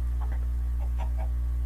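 Chickens clucking on a farm in the video game Huevalandia: a few short, soft clucks scattered over a steady low hum, with no talking.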